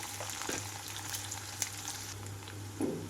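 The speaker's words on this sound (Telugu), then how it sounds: "కట్ చేసి పెట్టుకున్న ఉల్లిపాయలు పచ్చిమిరపకాయలు రెండు నిమిషాల పాటు వేయించుకుంటున్నాను" Chopped onions and green chillies fry in a pan for sorghum upma, producing a steady close sizzle with a few light clinks of stirring and no voices.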